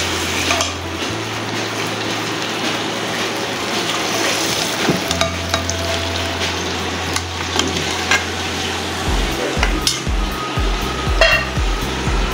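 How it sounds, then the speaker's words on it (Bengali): A whole chicken fries in spice masala, giving a continuous close sizzle. A spatula stirs and scrapes the pan, and metallic clinks and knocks grow busier toward the end. "আরও এটা আস্তা মুরগি ভাজবো তো, এটা দেখা গেছে ভালোভাবে ভেজে নেব।"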